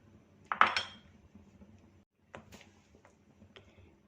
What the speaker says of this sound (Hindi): एक हाथ से कस्टर्ड डालते जाएंगे और दूसरे हाथ से मिक्स करते जाएंगे।